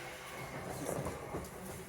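Southeastern Class 377 electric train pulling into a station platform, a steady rumbling roar of wheels and motors with a brief swell midway, close and continuous throughout.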